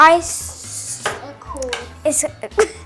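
A spoon stirs and scrapes a no-churn vanilla and peanut butter ice cream mixture in a bowl, giving scattered clinks and scrapes against the sides at close range.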